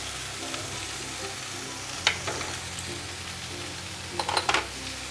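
Chopped onion and chilli stirred and mixed in a hot pan, a steady close sizzle with a few sharp clanks of the spoon against the pan in two brief bursts.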